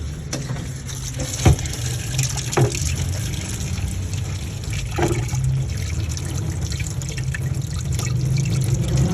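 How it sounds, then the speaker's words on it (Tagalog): Hands are washed under running water from a tap, a steady close trickle and splash with a few sharper knocks and drips as the hands move under the stream. "maghugas muna tayo ng kamay"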